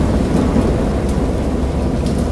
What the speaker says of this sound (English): peals of thunder and other tones which nature utters only in her wildest moods